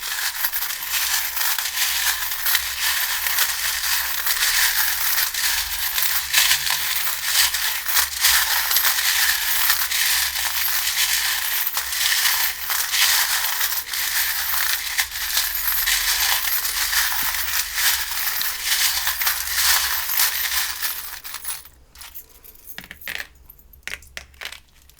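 Charms and dice cast and handled for a spiritual reading, a long close stretch of dense rattling, clicking and shuffling that stops abruptly near the end, leaving a few sparse knocks.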